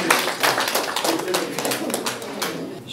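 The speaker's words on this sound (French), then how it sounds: "Monsieur Ibrahima Thiam, sous vos applaudissements, mesdames et messieurs" Audience applause greeting Ibrahima Thiam, newly elected president, at an extraordinary party congress; dense, steady clapping from a crowd fills the hall at close range for a few seconds.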